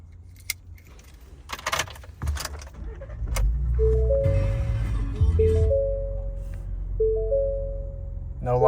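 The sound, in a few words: 2019 Ford Raptor engine starting up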